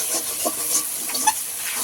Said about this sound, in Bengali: মশলাটা তেল ছাড়া পর্যন্ত ভালো করে কষিয়ে নেব।